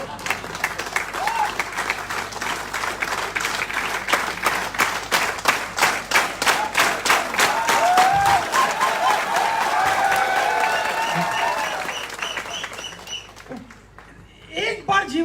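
An audience at a business mentoring and public speaking talk breaks into loud, sustained applause that rolls on for several seconds before tapering off, with scattered cheers and voices mixed in.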